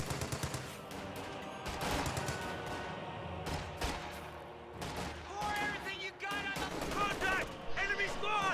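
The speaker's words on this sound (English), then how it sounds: "MG-34 firing on these riflemen here on the left side" MG-34 machine gun firing in a World War II strategy video game, heard as dense overlapping bursts of gunfire and explosions under a steady stream of commentary.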